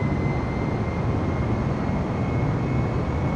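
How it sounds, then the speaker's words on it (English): A propeller airplane at full throttle in Microsoft Flight Simulator 2020, a dense, steady engine roar with a faint high whine, loud and unbroken throughout. "Up on the throttle, listen to that sound. Parking brake off. Full throttle."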